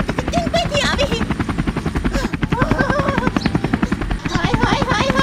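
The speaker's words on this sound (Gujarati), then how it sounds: "હેલિકોપ્ટરનો અવાજ આવતો એવું મને લાગે" A helicopter's rotor throbs with a fast, even thudding pulse close by and loud, while people talk and exclaim over it.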